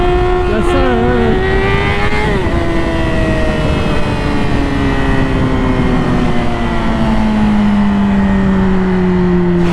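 A 600cc motorcycle engine holds a high rev during a wheelie, one loud continuous whine that dips briefly near the start and then slides gradually lower as it carries on.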